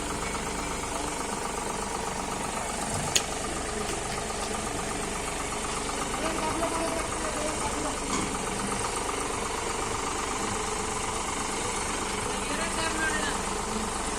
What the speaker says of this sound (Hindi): बिल्कुल नए ट्रैक्टर है। 23 के मार्के के टॉप मॉडल CRD इंजन के साथ है ये ट्रैक्टर।